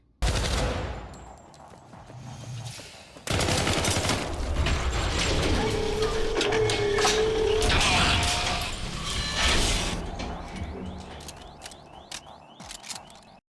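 Gunfire from the video game Syndicate: dense bursts of rapid mechanical shots and clattering weapon noise, loud and continuous through most of the stretch, with a steady tone in the middle and sparse clicks toward the end.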